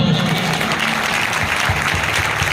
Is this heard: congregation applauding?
yes